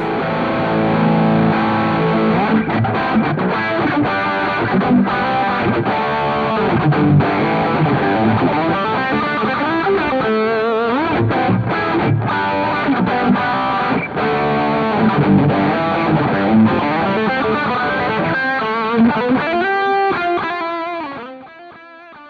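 Heavily distorted seven-string electric guitar with Fishman Fluence humbucker pickups plays a thick, saturated riff with sustained chords and busy picking, loud and continuous until it fades at the end.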